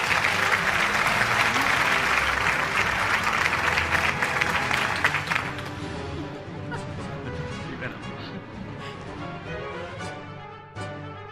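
Loud applause from a crowd at an annual award show fills the first half, then fades as a voice begins speaking over lingering scattered clapping.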